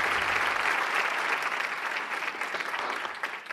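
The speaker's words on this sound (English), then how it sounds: "Please help me give a warm round of applause for our 2021 Enrich honorees and our video finalists." A large audience at an awards ceremony claps in a warm, sustained round of applause that keeps up throughout and thins slightly toward the end, with no one speaking over it.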